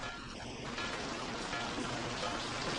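Steady rain falls outside, heard as an even, constant hiss that stays unbroken from start to finish at a soft, slightly distant level.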